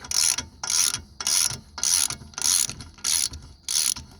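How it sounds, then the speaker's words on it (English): Long bolt being spun loose from the rear wheel bearing of a 2015 Volkswagen GTI, a ratchet clicking in seven quick, evenly spaced bursts of sharp metallic ratcheting, close and fairly loud. "Once you spin it loose, this little bolt is gonna come right out."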